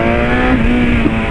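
A BMW S1000 motorcycle engine revs hard after a gear change, a loud, sustained, high-pitched whine that climbs slightly, heard alone with no talking.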